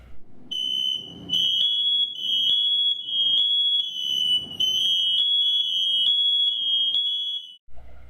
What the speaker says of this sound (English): This is what it will sound like when it goes off.